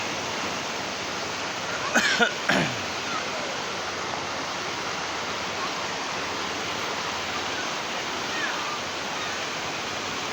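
Rushing floodwater roars steadily as a broad, constant wash, with a brief knock and a faint voice early on, in Barangay Bubon, Nueva Ecija.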